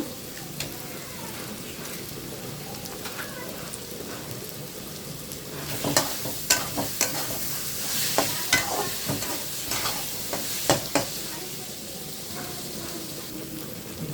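A vegetable stir-fry with fish, ground cumin and a cracked egg frying in a pan gives a continuous close sizzle, with a run of sharp spatula scrapes and stirs clustered in the middle and no talk.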